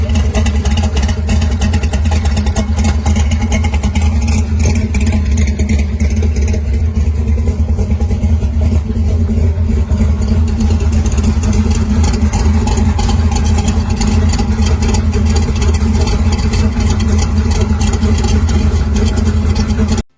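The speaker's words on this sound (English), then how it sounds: "1969 Mercury Cougar." A 1969 Mercury Cougar pro street car with a pump-gas engine idles steadily and close by, a constant deep rumbling hum that holds for about twenty seconds without any revving.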